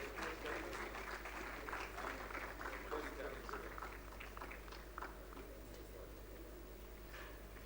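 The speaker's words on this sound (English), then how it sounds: "Please give a huge round of applause." Applause from an audience at a school Founder's Day celebration for competition winners, fairly faint and distant clapping with a steady hum beneath, tapering slightly toward the end.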